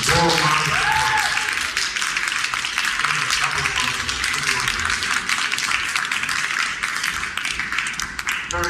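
An audience gives a warm round of applause at a Black History Month event in a community centre, dense clapping starting loud and holding steady, with a few voices underneath.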